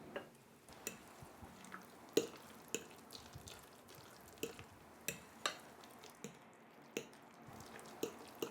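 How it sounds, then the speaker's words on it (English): Baba ghanoush ingredients are mixed into mashed eggplant, with soft wet squishes and sharp clicks of utensil on bowl coming in an irregular rhythm, close and quiet. "Now just put the ingredients into the eggplant and mix it really well."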